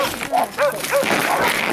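A dog outdoors lets out a few quick yelping barks and whimpers, close and loud, with people talking around it.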